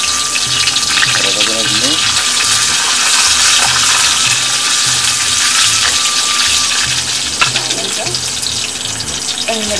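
Mustard seeds, fenugreek and dried red chillies sizzling steadily in plenty of hot oil for an Andhra gongura pickle, a loud continuous crackle and hiss throughout.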